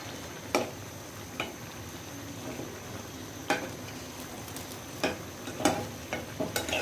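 Eggplant, pointed gourd and okra fry with prawns in a pan, a soft continuous sizzle broken by sharp, irregular clicks and scrapes of a spatula stirring, close by.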